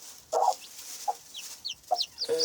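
A small black hen clucks in her pen, several short, soft clucks and murmurs spaced out over a couple of seconds, close by and alone.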